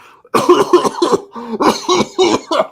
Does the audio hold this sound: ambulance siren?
no